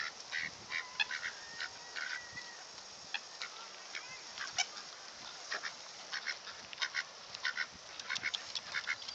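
Many ducks quack in a busy overlapping chorus as they are fed by hand, with a white duck among them; the calls come close and fairly loud, in scattered bursts throughout.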